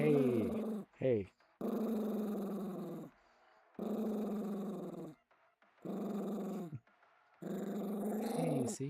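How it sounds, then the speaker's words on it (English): A dog growling and grumbling near the microphone in several bursts separated by short silences, some rising into whiny vocal tones, close and fairly loud with no other voices. "Jojo, don't bark into the mic at least."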